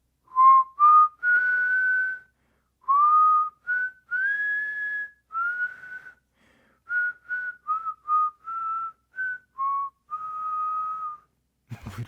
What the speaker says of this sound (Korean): 휘파람 소리 짧게만 서툰 휘파람 짧게만 들려주시면